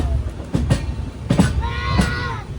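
The Kerala Sampark Kranti Express runs at speed past Aluva, heard from on board as a steady rumble with a few sharp clunks from the wheels over the track joints. There is also faint, brief squealing, and no one talks.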